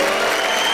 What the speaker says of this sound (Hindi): जरा जोरदार तालियां बताइए वेणुगोपाल जी के लिए।